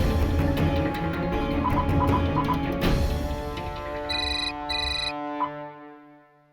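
A telephone rings with a tonal electronic ringtone playing in repeated bursts over a fading musical background, then stops abruptly near the end.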